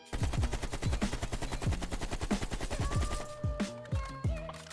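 Rapid automatic AK-47 fire in Call of Duty: Black Ops Cold War, a loud, sustained string of close shots in a steady rhythm for most of the stretch, thinning into a few spaced bursts near the end.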